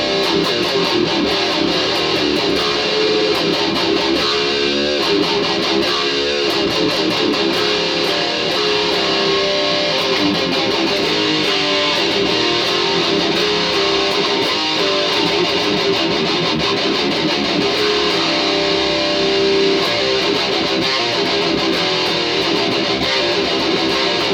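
A heavy distorted electric guitar riff, tuned a whole tone down, chugs on continuously, loud and dense, with no voices.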